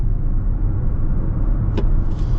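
A Toyota bZ4X electric car accelerates, giving a steady low road rumble and tire roar heard from inside the cabin, with a brief sharp click partway through.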